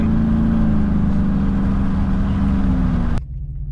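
A GM pickup truck with a new engine running at a steady droning pitch nearby, then the sound cuts off abruptly near the end, leaving a quieter background.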